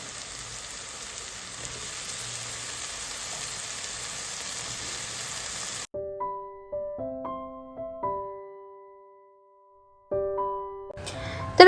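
Potato pieces dropped into hot oil in a pan while cooking dhaba-style lasooni palak, giving a steady broadband sizzle that cuts off abruptly, followed by clear tonal kitchen beeps and clinks.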